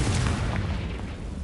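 A Confringo fire spell in the Hogwarts Legacy video game bursts with a dull, booming explosion that rumbles and fades over about a second.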